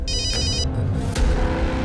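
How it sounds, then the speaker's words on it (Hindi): A phone ringtone chimes in a short electronic pattern over a low rumbling background, then fades as the steady hum continues. "अगं मोबाईलची रिंग वाजते, बघ जा"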